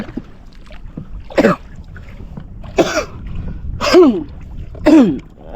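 Coughing outdoors near calm water on a boat trip, four separate harsh bursts spaced about a second apart, loud and close over a quiet background with faint water sounds.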